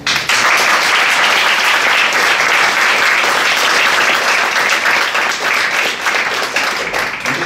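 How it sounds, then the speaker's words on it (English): Loud, dense applause from a live audience at a machine learning and neuroscience meetup, sustained and close, with a slight dip near the end and no speech over it. "and big applause, of course"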